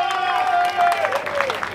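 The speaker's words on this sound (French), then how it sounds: "Vous savez qu'on applaudit très très fort avant de passer" Applause from a crowd at a French MX1 motocross championship event in Ernée: dense, steady clapping close by, with a sustained tonal voice or whistle running over it and voices mixed in.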